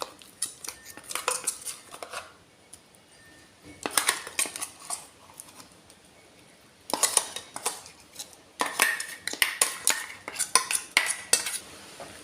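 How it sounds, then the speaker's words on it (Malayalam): A metal spoon stirs ground roasted coconut paste into Kerala-style sadya sambar in a pot, scraping and clinking in repeated bursts with short pauses between them, close and fairly crisp. "നന്നായിട്ട് മിക്സ് ചെയ്ത് കൊടുക്കുക."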